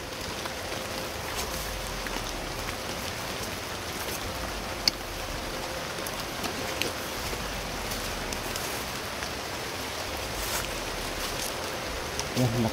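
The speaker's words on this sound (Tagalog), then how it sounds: "Yan, lakas na naman yung ulan." Heavy rain falls steadily on a small mountain road, a dense unbroken hiss lasting throughout with a few faint knocks.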